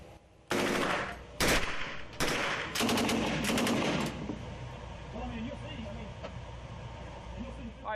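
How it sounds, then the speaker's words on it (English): An MP5 machine gun fires several loud, close bursts in quick succession over the first half, then stops, leaving steady room noise with a voice speaking. "I'm shooting a machine gun."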